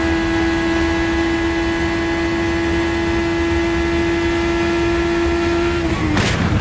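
Onboard an IndyCar during the 2009 Indy 500, a steady, loud engine whine holds for several seconds before an abrupt burst and cutoff near the end as the car strikes the wall.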